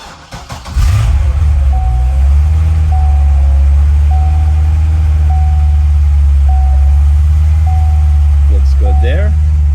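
A 2006 Chevy Corvette Z06 starts at the push of a button: a brief starter whir, then the engine catches and settles into a loud, deep idle while a soft periodic beep chimes and a voice speaks briefly near the end.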